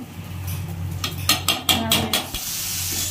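Soybean curry with spices is stirred in a pan, with a spoon scraping and clinking in a quick run of strokes over a soft, steady sizzle.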